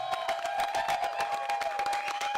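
A sellout crowd at a Movie Trivia Schmoedown event applauds steadily, with dense rapid clapping and some cheering throughout, close and sustained.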